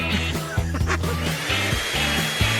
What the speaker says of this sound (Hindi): मेरे पास एक हेयर ड्रायर है जो बहुत अच्छा काम करता है।